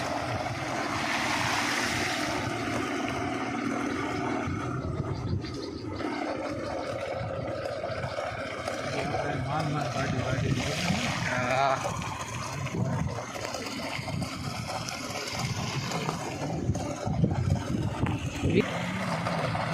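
Floodwater from heavy rain rushes steadily over a broken road in a loud, continuous roar, with wind buffeting the microphone and faint voices underneath.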